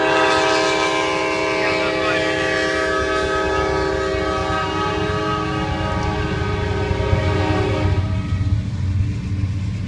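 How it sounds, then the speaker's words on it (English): A horn sounds a sustained chord over the low rumble and clatter of a passing eastbound Norfolk Southern freight train, which keeps rolling steadily after the horn stops. "And that's the end of the NS train heading east towards Silver Springs."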